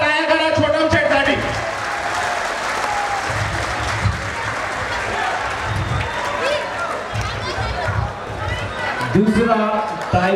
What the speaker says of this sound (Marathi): एकदा जोरदार टाळ्या करा छोटम शेठ साठी.